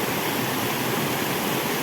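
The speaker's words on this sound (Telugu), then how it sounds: "అరకుకే అందాన్ని తీసుకొచ్చింది ఈ వాటర్ ఫాల్స్" Chaparai waterfall in Araku pours in a steady, dense roar of falling water, loud and unbroken throughout, with no voices.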